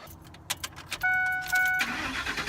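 A Ford F-150 pickup with freshly changed spark plugs is started. Keys jangle and clicks sound, a steady chime tone plays, then the engine cranks and catches into a low idle close by.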